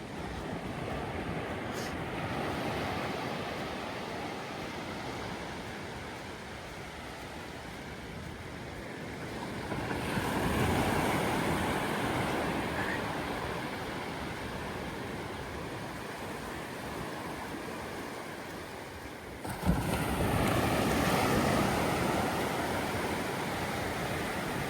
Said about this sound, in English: some ocean for a second as we walk along the beach back to the car.